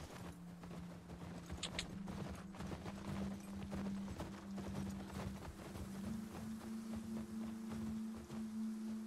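Steady clip-clop of horse hooves trotting at an even rhythm over a constant low hum, with no talking, from the video game The Last of Us Part II.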